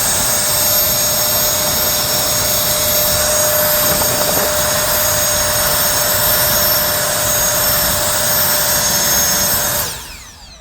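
A powerful air blower drying small car panels roars in a loud, constant whoosh with a steady high whine, running unbroken for about ten seconds before cutting off abruptly.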